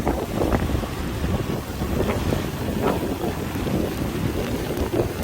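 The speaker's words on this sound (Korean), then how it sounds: "파도 치는 모습을 여러분께 좀 보여드리고요" Sea waves surge and crash along the Sokcho coast as a typhoon passes, with heavy wind buffeting the microphone in a loud, continuous roar and no talking.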